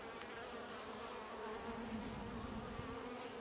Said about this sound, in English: a lot of active bees